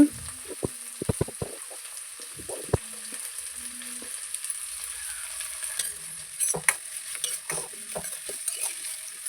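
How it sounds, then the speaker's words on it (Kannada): Four medium chopped onions dropped into hot oil in a pan for a fish sambar, a burst of clattering spoon knocks and scrapes at the start, then a low steady sizzle with occasional stirring rattles, close and without talk. "ಎಣ್ಣೆ ಸ್ವಲ್ಪ ಬಿಸಿ ಆದಮೇಲೆ ಒಂದು 4 ಮೀಡಿಯಮ್ ಸೈಜ್ ಈರುಳ್ಳಿನ ಕಟ್ ಮಾಡಿಕೊಂಡು ಸೇರಿಸ್ಕೊತಿದ್ದೀನಿ"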